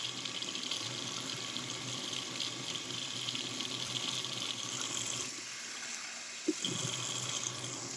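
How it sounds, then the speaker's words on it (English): Hot water runs steadily from a kitchen tap, a continuous close hiss and splash that drops slightly near the end, followed by a brief knock. "I've got the hot water running."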